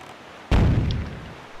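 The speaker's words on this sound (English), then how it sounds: "Those cannons are going to fire at you no matter what." A single deep cannon blast from the Wind Waker video game booms out abruptly, close and loud, then rumbles and fades over about a second.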